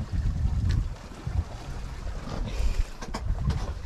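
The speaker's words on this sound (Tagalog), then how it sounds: "Ay, yung bangka ni Master James, oh." Steady low rumble of a boat on open water, with wind buffeting and splashing around it; no talking.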